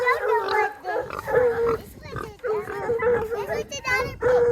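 A pig on a farm grunts and squeals in a series of short, close vocal bursts with brief pauses between them.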